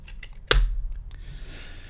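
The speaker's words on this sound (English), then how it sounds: "and then you can take your picture." A single crisp mechanical clack of a Zenza Bronica ETRS medium format film camera shutter firing up close, with a softer click and faint mechanical whir trailing after it in a quiet room.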